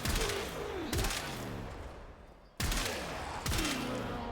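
Komorex rifle shots ring out in the Warframe video game, four loud, widely spaced blasts, each followed by a decaying tail, one pause running longer before the last pair.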